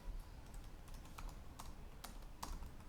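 Code typed on a computer keyboard, a quick run of close, crisp key clicks at an uneven pace over a soft background hiss.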